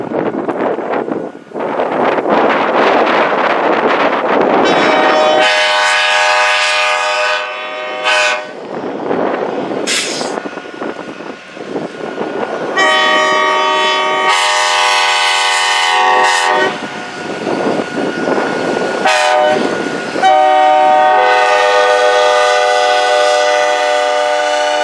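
Pere Marquette 1225 steam locomotive on the North Pole Express passes the Mason Road / North Delaney Road crossing near Owosso, sounding its horn in several long, loud blasts over the rumble and clatter of the moving train.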